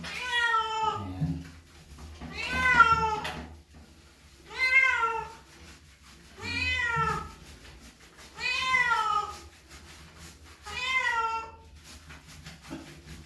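A wet, shampooed cat being bathed meows six times in a steady rhythm, each loud drawn-out meow close by, separated by short pauses with faint background sound.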